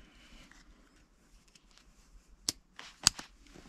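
A zip tie holding the gear knob boot of a Renault Kangoo 2 or Clio 3 is cut, with two sharp, close snips among soft handling rustles.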